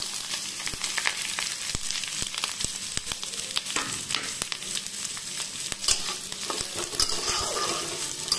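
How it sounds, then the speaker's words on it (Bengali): Vegetables frying in hot oil for a white sauce pasta, a steady close sizzle with the rattle and scrape of stirring running throughout, no talk. "এগুলোকে এখন ভালো করে ভেজে নেব।"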